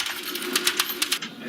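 Type mats clatter into place as a Linotype-style typesetting machine assembles a line, giving a run of sharp metallic clicks and drops at an uneven rhythm, close and fairly loud, with a steady mechanical hum underneath.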